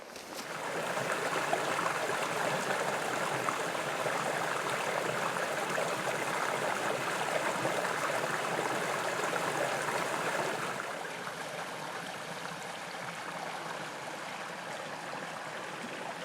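Clear water of a stream running through a shallow ford in a Cairngorm pine forest, a steady close rush and burble that holds even throughout, then drops slightly softer partway through, with no talking.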